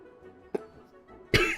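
A person coughs close to the microphone during a livestream: a short sharp cough, then a louder, longer burst about a second later, over a quiet background.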